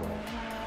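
Race car in Assetto Corsa Competizione thumping over trackside curbs, a steady loud engine drone with brief bumps and a light tire squeal, very short and alone.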